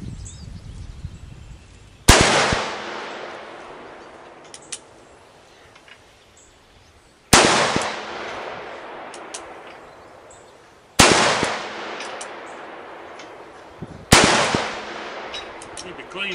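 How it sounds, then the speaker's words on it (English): A Magnum Research BFR revolver chambered in 350 Legend fires four loud, sharp shots outdoors, several seconds apart. Each blast rings out into a long, fading echo. "I'm going to shoot a Magnum Research BFR in 350 Legend"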